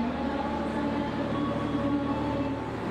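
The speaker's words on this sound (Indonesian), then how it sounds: "Yang ada di jalur nomor 2 ini sepertinya kereta api Argo Merbabu" A steady, loud rumble of a passenger train running alongside at an Indonesian station, continuous low roar with faint tonal hum and no breaks.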